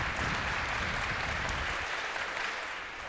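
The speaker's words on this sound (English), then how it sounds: "Always cool to hear that slow clap going." Spectators at an indoor track meet clapping in a steady wash of applause that holds evenly before thinning slightly toward the end, with no talk over it.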